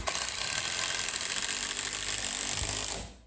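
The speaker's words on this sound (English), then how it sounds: "So I'll pop a screw in here." A screw is driven into a subfloor during repair of damaged flooring, a steady loud whirring ratchet-like drive lasting about three seconds before cutting off.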